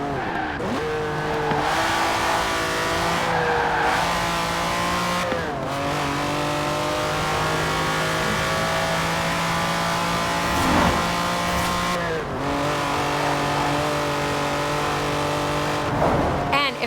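A Lamborghini Countach racing in Forza Horizon 4: the engine revs high through repeated gear shifts, pitch climbing then dropping with each change, tires squealing at moments, loud and close for about seventeen seconds while someone talks over it.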